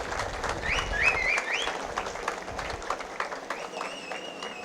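Scattered audience clapping at an Aam Aadmi Party political rally in Goa, moderate and uneven, mixed with crowd murmur and some birdlike chirps over the noise.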